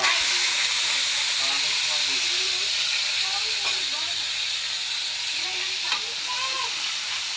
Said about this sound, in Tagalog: So yun, prito na natin yung atay.